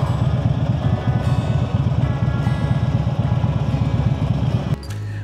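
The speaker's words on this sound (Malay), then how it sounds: "So diorang tu test ride motor." Motorcycles test ridden at a Great Show media preview at Gamuda Cove give off a loud, steady engine drone, which drops to a quieter idle in the last half second.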